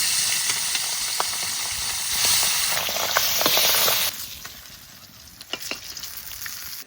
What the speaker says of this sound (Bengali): এরকম করে সব মাছগুলো ভেজে নেব।